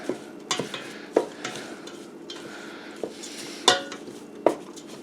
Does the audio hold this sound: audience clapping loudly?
no